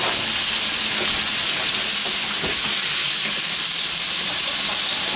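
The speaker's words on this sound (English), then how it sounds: "I'm going to put another half teaspoon of dark soy in here" A bitter melon and pork belly stir fry hisses and sizzles loudly and steadily in the pan after dark soy is added, a constant bright crackling wash with a few faint clinks beneath it.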